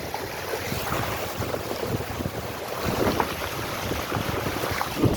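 Floodwater waves washing over the Ghorashal road in Bangladesh: a continuous rushing, lapping wash heavily mixed with gusty wind buffeting the microphone, fairly loud and without speech.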